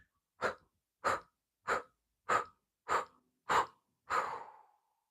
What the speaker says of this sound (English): I'm going to inhale through the nose, a deep breath, and exhale, separating the lips slightly and blow out.